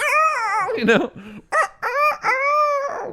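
A rooster crows close by in a few loud, drawn-out harmonic calls separated by short breaks.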